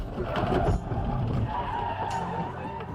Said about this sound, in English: Our submitter had no chance to stop in time, slamming into the side of the other car.